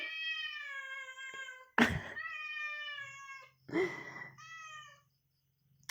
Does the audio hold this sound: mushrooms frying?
no